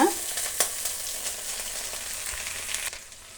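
Chopped amaranth greens are dropped into a hot pan with oil and dried chillies, cooked without water. A crackling burst at the start settles into a steady, close sizzle that fades slightly at the end.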